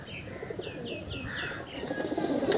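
High-flying parwazi pigeons coo and call in a short series of chirping notes amid soft wing flapping, fairly faint over outdoor background noise.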